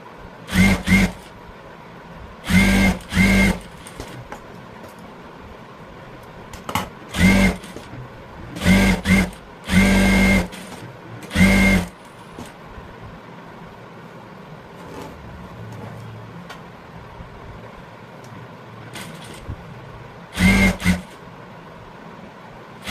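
A sewing machine stitches a 3-dot blouse in several short, loud whirring runs of a second or two each, separated by quieter pauses with faint handling noise, and no speech.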